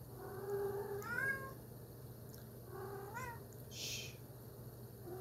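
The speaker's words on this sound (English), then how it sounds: "Sorry, you guys. That's my cat, Zilla." A pet cat meows two or three times at close range, with a short higher chirp near the end, over a steady low hum in a quiet room; nobody speaks.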